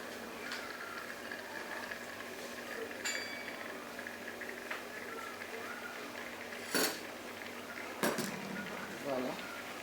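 A spoon stirs spiced rice with meat in a pot, giving soft scraping and occasional sharp metallic clinks against the pot over a low simmering hiss, with a voice speaking at times.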